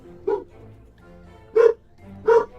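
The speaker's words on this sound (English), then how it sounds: "Sorry if you can hear the dogs in the background." Three dogs' barks sound in the background of a room, separate woofs spaced about a second apart, moderately loud.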